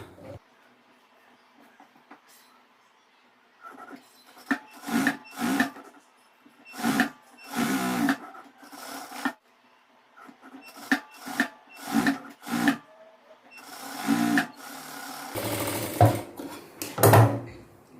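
A sewing machine stitches blouse fabric for a boat neck blouse in a series of short whirring runs, starting and stopping repeatedly with quiet pauses between bursts.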